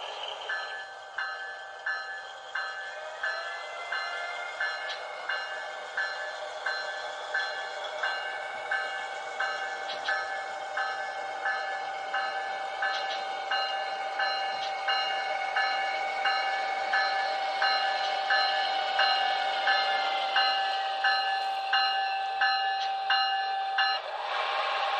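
An HO-scale Amtrak ALC-42 Charger model locomotive hums along onto a transfer table with a steady rhythmic clicking of wheels over track joints, a sustained whine running underneath until it stops near the end.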